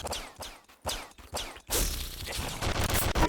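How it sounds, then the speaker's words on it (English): Gunfire from a boss in the video game Nuclear Throne: a string of punchy blasts and whooshes, then a dense, loud barrage of game shooting and impacts. "The boss is going to start shooting at me."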